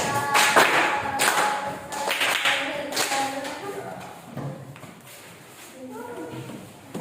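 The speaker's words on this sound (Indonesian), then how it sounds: "Berikan tepuk tangan yang meriah." Classroom students at an Indonesian school clap together in a lively, uneven burst of loud hand claps that fades into scattered taps, with a teacher's voice talking over and after it.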